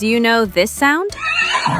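A horse whinnies with a rising, shaky neigh, followed by a short spoken question; the animal call is loud and close.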